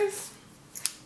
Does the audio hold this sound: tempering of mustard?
no